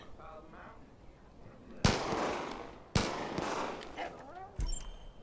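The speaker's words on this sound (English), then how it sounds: "What are they shooting at?" Gunfire in Far Cry 5, with two sharp, loud shot bursts that ring out and decay, followed by a third impact near the end, over faint background game ambience.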